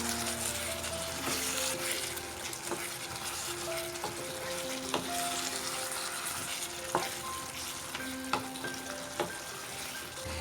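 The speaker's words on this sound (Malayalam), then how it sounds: "ഇനി ഇതെല്ലാം കൂടി ഒന്ന് മിക്സ് ചെയ്ത് കൊടുക്കാം" Mutton roast with garam masala and curry leaves sizzles steadily in a pan while it is stirred, with occasional scrapes and taps over a continuous frying hiss, and no one talking.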